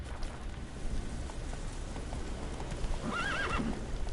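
Roach, a horse in the video game Witcher 3, clip-clops along in a steady rhythm with rain falling in the background, and near the end the horse lets out a short whinny.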